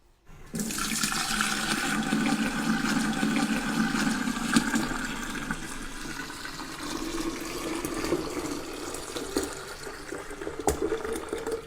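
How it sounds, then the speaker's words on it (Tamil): Strained grape juice pours in a continuous splashing stream into a container, a steady close liquid rush lasting many seconds before tapering slightly. "இப்போ நம்ம இதை எடுத்து இதுக்குள்ளே ஊற்றிடலாம்"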